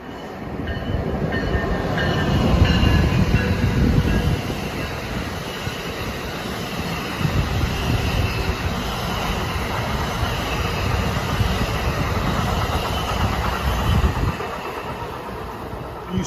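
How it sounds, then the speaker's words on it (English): An eastbound equipment train rolls past a New Jersey commuter rail station platform, a loud, continuous roar of wheels and rail noise lasting throughout, with surges in rumble and faint wheel squeal. "Eastbound equipment train by at 4:06."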